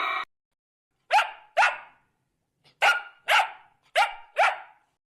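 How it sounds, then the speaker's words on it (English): A dog barks in sharp, clear, evenly spaced woofs, six or seven loud close barks in pairs with silent gaps between, alone without other sounds. "D for dog."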